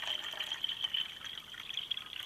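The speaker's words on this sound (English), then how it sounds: "just going to add water into the cup canteen at the moment" Fresh water poured into a metal cup canteen, a steady, close trickle and splash filling the cup, heard alone without talk.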